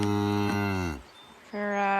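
A cow on a ranch gives a long, loud, deep moo, then after a short pause begins a second one, close by with no talking.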